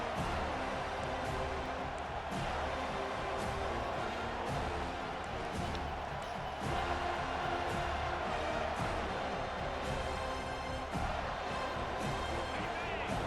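Stadium crowd noise from the EA Sports College Football 25 video game, a dense continuous roar that swells slightly partway through, with game sounds mixed in.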